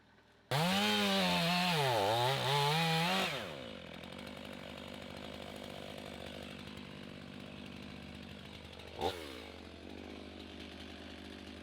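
A chainsaw cuts into a dead ash tree in a backyard, starting with a loud revving whine that rises and dips, then settles into a steady droning cut, with one brief surge later on.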